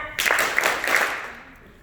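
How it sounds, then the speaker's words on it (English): A small group claps in unison three times, sharp and evenly spaced, with the last clap trailing into a short room echo. "3 claps, ready,"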